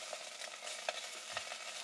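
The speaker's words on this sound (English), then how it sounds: "So this kale, if you'll just stir it" Kale being stirred in a pan with oil and lime juice, a soft steady sizzle under light scraping strokes and a few faint clicks, quiet and close with no talking.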